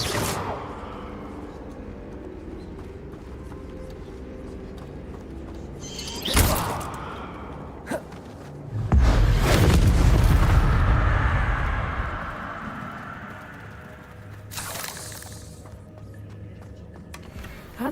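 Incendio fire spell cast in Hogwarts Legacy, sharp bursts followed by a loud roaring whoosh of flame that swells and fades, with scattered impacts and a quieter game ambience around it.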